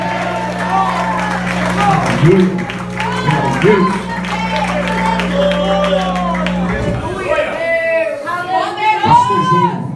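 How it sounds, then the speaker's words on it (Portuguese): Church congregation at a Portuguese-language worship service breaks into applause, a burst of crowd clapping and cheering that rises and falls while a voice calls out praise over it and the noise carries on. "uma salva de palmas para Jesus"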